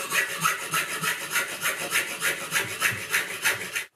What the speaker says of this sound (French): Première étape, je vais couper ma plaque à la bonne dimension, 12 par 6.